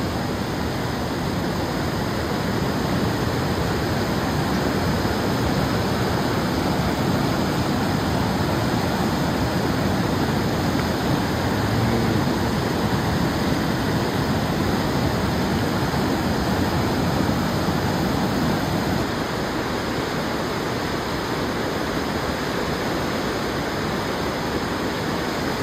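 Steady, loud roar of rushing water at the bank of the Sunkoshi river, a continuous broadband wash with no breaks or distinct wave surges for the whole stretch, and no voices.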